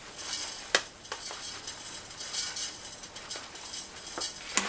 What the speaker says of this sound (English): It just says plant food evenly. So we're just going to sprinkle some on top.